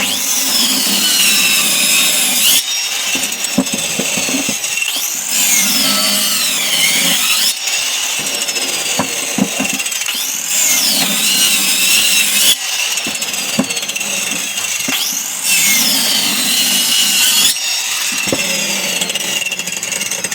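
Homemade cutting tool slicing through wooden pieces, repeated rasping strokes in regular cycles of a few seconds each, loud and close, with no talking.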